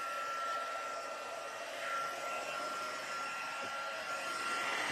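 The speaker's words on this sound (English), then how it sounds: "Now I'm going to take my heat tool. I'm going to turn it on, and it's going to sound loud." A heat embossing gun for stamping crafts runs steadily and loudly, a continuous blowing whoosh that holds for the whole stretch without pause or talk.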